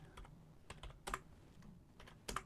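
Text is being typed on a computer keyboard, producing quiet, soft key clicks in irregular short bursts with brief gaps, close but faint.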